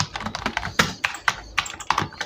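Python code being typed on a computer keyboard: a steady run of crisp, close key clicks with a few sharper, heavier strokes mixed in, at an uneven rhythm and with no talking.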